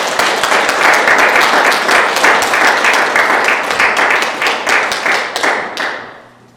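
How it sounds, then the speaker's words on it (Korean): A church congregation gives loud, dense applause to welcome a pastor to the pulpit; the clapping runs strong and steady for several seconds, then thins and fades out. "우리 윤학규 목사님 나오실 때 뜨거운 박수로 환영하십시오."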